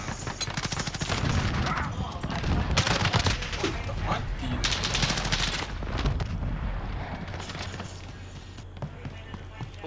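Rapid gunfire bursts and rattling shots from a Call of Duty search and destroy match, loud and continuous game audio with people talking over it.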